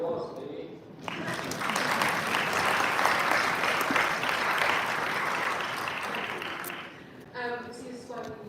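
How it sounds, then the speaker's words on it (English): A room of delegates at a UN conference town hall in the ECOSOC Chamber breaks into dense, sustained applause for about six seconds. Brief talk comes just before it, and voices return as the clapping dies away. "Round of applause, maybe."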